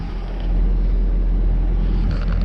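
An alfalfa seeder with rollers running across a field behind a tractor, a steady loud low rumble of engine and machinery close by, with no talk.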